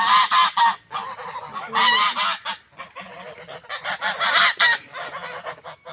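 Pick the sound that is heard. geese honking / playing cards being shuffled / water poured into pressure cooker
geese honking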